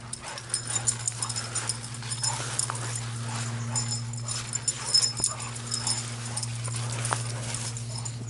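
A young Dutch shepherd pit mix dog makes soft whimpering noises during an outdoor keep-away game, heard over a steady low hum with scattered light thumps and rustles.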